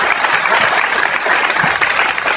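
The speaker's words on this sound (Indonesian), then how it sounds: "Tentu patut kalau kita apresiasi sedikit dengan tepuk tangan sekarang buat teman-teman muda." Loud, dense applause from an audience at a talk on global crisis, steady clapping filling the whole short stretch without a break.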